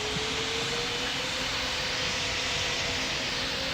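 An Emirates airliner landing in the video game Pilot Training Flight Simulator, a steady loud jet engine roar with a faint rising whine held throughout, no talking.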